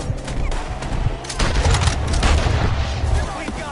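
Rapid gunfire in Red Dead Redemption 2 as shooters fire up at enemies hidden in trees, dense overlapping shots and booms in a loud continuous fusillade, with voices shouting underneath.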